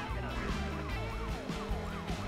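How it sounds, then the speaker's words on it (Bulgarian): Police sirens wail continuously in a Need for Speed Most Wanted chase, several overlapping up-and-down tones layered over a steady car engine rumble, loud and without pause. "с тези сирени, които ми пускаш"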